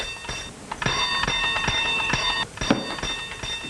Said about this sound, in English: Oh, stop ringing that bell.